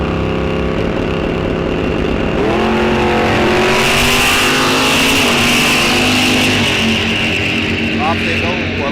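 Drag race launch at Rock Falls Raceway: a Pontiac Firebird and a 1979 Chevrolet Monte Carlo rev and accelerate away with loud, continuous engine roar and rising pitch, heard under an announcer talking over the track PA.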